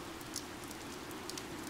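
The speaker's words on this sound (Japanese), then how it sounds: "あいにくの雨。" Steady rain falls in the video game Fire Emblem: Three Houses, a faint, even hiss with occasional soft drop ticks and no other sound.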